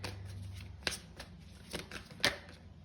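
Tarot cards are shuffled and a card pulled during a pick-a-card reading, heard as a few crisp, close riffling snaps and flicks over a faint low hum, with no talking.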